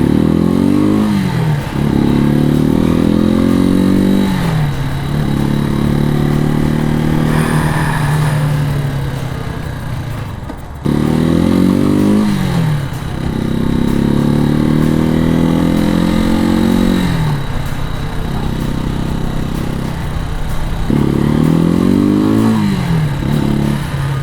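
Janus Motorcycles Phoenix 250 single-cylinder bike engine while riding, loud and close, with repeated rising revs through the gears broken by brief drops at each shift, under steady wind rush.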